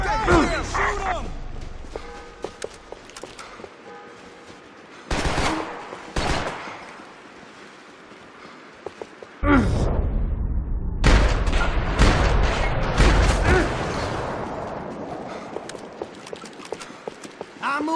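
Bursts of gunfire ring out in the Max Payne 3 video game, sharp broadband volleys and rapid shots that are loud and close, alternating with quieter stretches of game ambience and voices.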